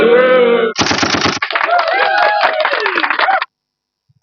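Video game gunfire comes in rapid automatic bursts and single shots, loud and close, with a short silence near the end. Excited voices sound partly over and between the shots.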